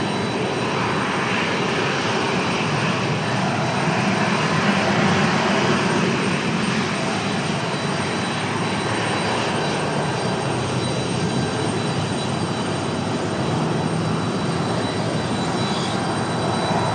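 A Delta airliner passes at Raleigh-Durham airport, engines giving a loud, sustained roar that stays even across the clip with a slight swell early on, and no voices.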